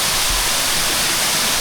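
Waterfall pouring at a cave's hidden entrance, a steady dense roar of falling water, broadband and unbroken, with no voices.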